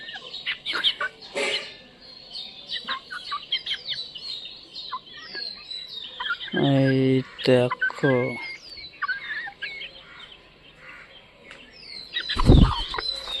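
Chickens let out of their coop cluck and squawk, with scattered calls throughout, a loud burst of rapid squawking in the middle and a sharp flurry near the end, close by, while a person talks briefly.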